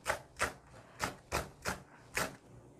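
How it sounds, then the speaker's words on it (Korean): A knife chops green onions on a cutting board while seasoning is prepared for Korean army stew (budae jjigae): six crisp, close strokes in an uneven but steady rhythm, with no talking. "양념을 미리 좀 준비해 놓으려고 파부터 썰어요."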